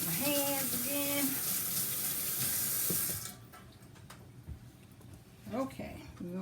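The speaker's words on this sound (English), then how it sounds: "Wash my hands again." Water from a kitchen tap rushes steadily as hands are washed, loud and close for about three seconds before it stops, with a voice speaking briefly under and after the flow.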